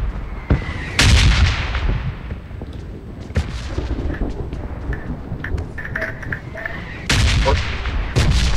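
Shooter video game gunfire with players using a K98 rifle: repeated loud bursts of shots and booming blasts, some close and some farther off, with voices heard faintly between them.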